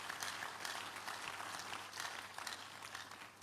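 A church congregation at a Wednesday communion service gives a big hand of applause in praise, steady dense clapping filling the hall throughout at moderate level.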